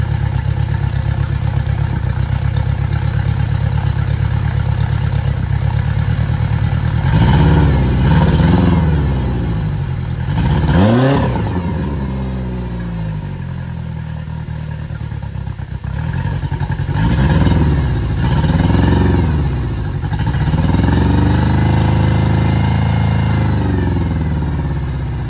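A Yamaha 60 hp outboard motor on a 17'5 Bay Craft skiff cranks and fires up for the first time, settling into a steady, loud idle with several rising revs and throttle blips over a continuous rumbling drone.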